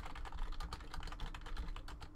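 Dense, steady keyboard typing on a PC, quick clicks packed closely together at a moderate, slightly distant level over a constant background hiss.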